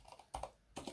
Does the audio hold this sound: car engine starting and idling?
no